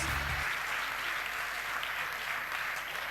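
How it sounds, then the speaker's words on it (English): Sustained round of applause from an audience at an awards ceremony for innovation finalists, a dense steady clapping that stays loud and even throughout. "let's just take a big round of applause for all of the Innovation Avenue"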